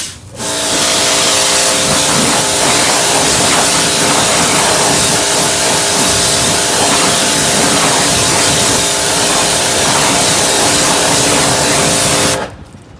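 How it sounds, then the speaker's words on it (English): A long, steady, loud hiss of wheel cleaner spraying onto a car wheel coated in brake dust, running unbroken for about twelve seconds close by, then stopping abruptly. "Now we'll spray from this side."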